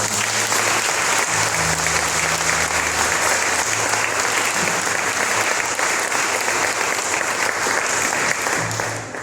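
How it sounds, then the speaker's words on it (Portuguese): A church congregation applauds steadily and loudly for the full length, a dense wash of many hands with a faint low hum beneath it. "Palmas para o Senhor Jesus."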